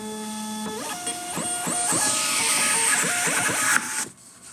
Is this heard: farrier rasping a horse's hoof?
no